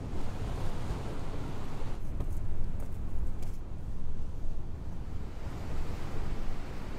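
Ocean surf rolls and breaks steadily on a surf beach, a broad continuous wash of wave noise with some wind buffeting the microphone, and no voices over it.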